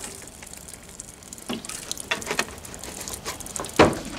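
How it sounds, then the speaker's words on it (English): Water is poured onto wooden axe-throwing boards, giving a soft wet splashing and trickling over a background hiss, with a few sharper splashes and a louder slosh near the end. "I'm going to pour some more water on it."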